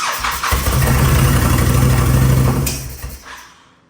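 A Honda VTX motorcycle engine runs on choke after a carburetor cleaning, with a loud, steady rumbling idle that holds for a few seconds, then falters and dies away to silence.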